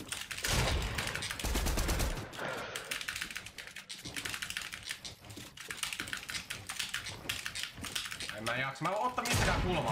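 Rapid bursts of video game gunfire crackle through a session, mixed with fast clicking keyboard typing and a player's voice talking over the shots.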